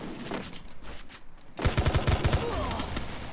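Free Fire gameplay with a short muffled shot, then a rapid burst of automatic gunfire, loud and close, rattling for about a second before fading into the game's noise.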